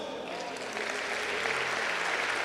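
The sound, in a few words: church congregation clapping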